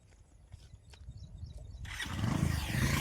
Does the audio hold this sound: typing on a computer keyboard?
no